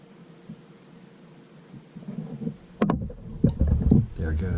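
An A.O. Smith gas water heater burner lights after a quiet stretch of faint rustling, with a few sharp clicks followed by a low rushing flame that keeps going under light background noise.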